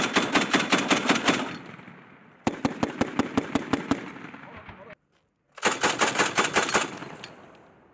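An MK 19 Mod 3 40mm grenade launcher firing during training: three loud, close bursts of rapid heavy thumping shots with short gaps between them.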